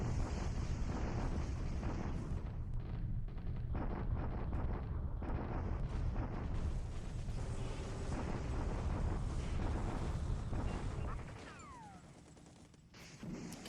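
Artillery counter-bombardment in a Pacific war strategy video game: continuous rolling barrage of booming explosions and gunfire, loud and dense, fading into a quieter lull near the end.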